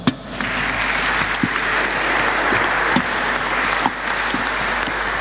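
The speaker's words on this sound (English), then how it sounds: "Let's give them one more big round of applause." Audience applause for conference panelists at an energy-market event on renewables in the Baltics, a steady dense wash of many hands clapping that holds for about five seconds at close range with no voices.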